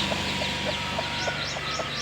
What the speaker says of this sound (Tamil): சின்ன கோழி சின்ன கோழிங்க பாருங்கள் சரிங்க கோழி குஞ்சு